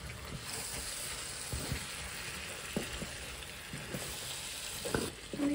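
Fried onions (beresta) added to a pan for chicken roast, a soft continuous sizzle and crackle with occasional stirring scrapes and clinks, quiet and close.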